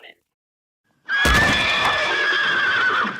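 A horse lets out one loud, sustained whinny lasting about two seconds, close and alone after a brief silence.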